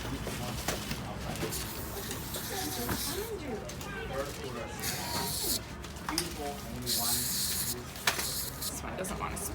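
A spray can hisses lubricant onto the suspension of an Uppababy stroller in a shop, a steady close hiss running under ongoing talk with a few sputtering breaks where the nozzle falters.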